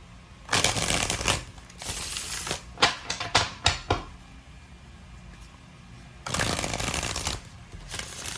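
Large tarot cards being shuffled in bursts: a long riffling rush, a run of quick separate flicks and snaps, a pause, then another sustained riffle, close and crisp with no talking.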